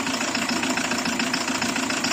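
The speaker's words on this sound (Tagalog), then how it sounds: "ayaan lang natin maandar yung makina" A Hyundai D4CB diesel engine from a Bongo truck runs steadily after assembly with new parts, a close, loud, rhythmic chatter and knock at idle.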